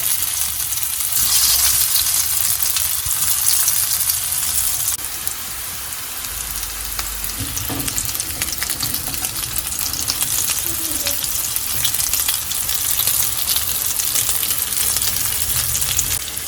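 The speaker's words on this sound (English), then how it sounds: "My oil is hot, and to this I am going to add in the dhoka pieces and fry them till they are nice and brown in color." Dhoka pieces fry in hot mustard oil with a loud, continuous sizzle and crackle, and brief stirring and clattering in the middle as the frying carries on.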